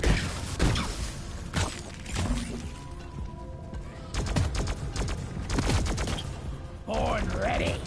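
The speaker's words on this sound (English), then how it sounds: "Did you hear those explosions?" Weapon blasts and explosions in the video game Deep Rock Galactic, a run of sharp bursts and crashing impacts layered over continuous gameplay noise, with a voice briefly talking.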